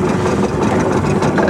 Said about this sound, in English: So I'll just kick the motor over, start idling along.